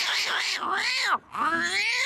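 A human voice imitates two cats fighting, with rising and falling yowls and caterwauls in a continuous stretch that breaks for a moment before a second wailing cry.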